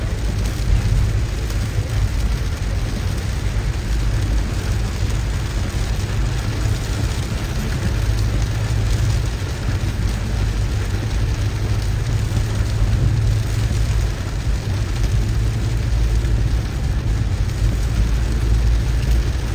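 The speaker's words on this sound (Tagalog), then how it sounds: "Dito sa Manila, ang lakas na po ng ulan" Heavy rain falls in Manila as a dense, steady hiss and rumble that holds at a constant loud level throughout, with no voices standing out.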